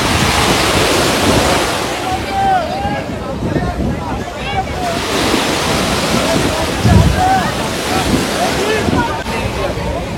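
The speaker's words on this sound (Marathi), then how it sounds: "लाटा भरपूर मारतात पायाला" Sea waves surge and wash at Girgaon Chowpatty beach during a large Devi idol immersion, a steady close rush of surf mixed with wind buffeting and crowd voices and talk throughout.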